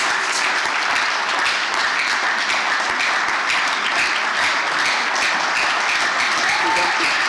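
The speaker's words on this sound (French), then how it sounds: "Clap your hands, all you people." Continuous applause from a church congregation, many hands clapping steadily and loudly throughout with a dense, even roar.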